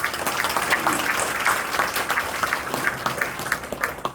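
A crowd claps steadily for a few seconds at an awards ceremony, a dense, even patter of applause in a large room.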